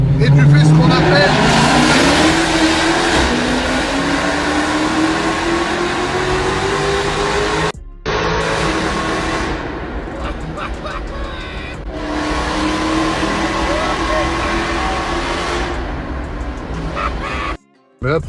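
A Mercedes C63 Black Series in Sport Plus mode, exhaust flaps open and windows down, roars through a tunnel as the engine note climbs steadily, loud and close, with brief cuts in the sound.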